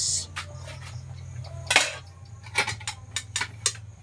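A metal lid is set onto a cooking pot of malunggay, giving a few light clinks and taps that stand out over a low steady hum from the stove.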